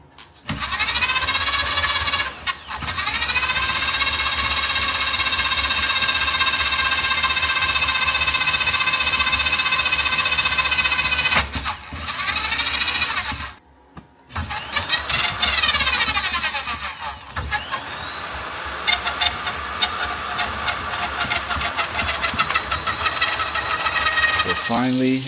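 A Garvee drain cleaner machine runs loud and steady with a whirring, hissing drone while its cable works through a real clog in a household drain line, with brief stops and restarts and a few short pauses.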